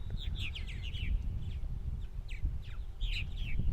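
Purple martins call near their nesting colony on eastern Long Island, giving repeated bursts of bright, chirping twitters. Low rumbling outdoor noise runs underneath.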